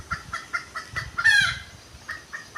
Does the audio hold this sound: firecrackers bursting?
no